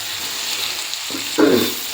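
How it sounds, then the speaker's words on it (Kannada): Avarekalu sambar ingredients frying in a little oil in a pan: a steady low sizzle that swells into a louder, hissing burst of frying near the end, with no talk. "ಸ್ವಲ್ಪ ಎಣ್ಣೆಲಿ ಅದು ಫ್ರೈ ಆಗಲಿ ಅಂತ ಎಣ್ಣೆಲ್ಲ ಫ್ರೈ ಮಾಡ್ತಾಯಿದ್ದೀನಿ"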